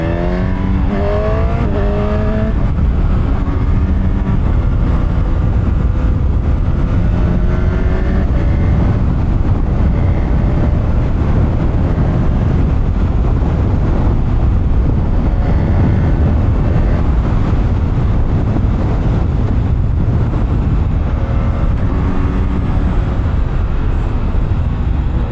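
A 2025 Honda CB1000 Hornet SP motorcycle rides along, rising and falling in pitch as the rider shifts gears with rev matching. Wind noise stays constant underneath throughout.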